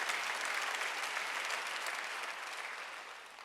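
A church congregation at a Korean Sunday worship service applauds together, a steady broad clatter of many hands that gradually fades toward the end.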